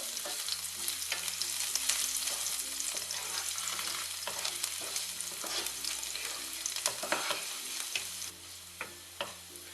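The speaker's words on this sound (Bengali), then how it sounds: "রসুনটা হালকা ভেজে নিব" Chopped garlic fries lightly with whole cumin seeds in hot oil, a continuous close sizzle broken by the scrape and clatter of stirring, with a low steady hum underneath.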